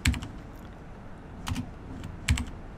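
Keys tapped on a computer keyboard while entering a prompt in Microsoft Word, with short clustered bursts of clicks separated by brief pauses, close and fairly quiet over a low room hum.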